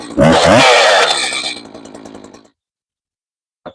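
A professional-grade chainsaw revs loudly up close with the chain moving, the engine whine falling off into a sputtering idle, then cuts out; a brief click follows after silence.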